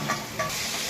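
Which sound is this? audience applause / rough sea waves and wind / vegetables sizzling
vegetables sizzling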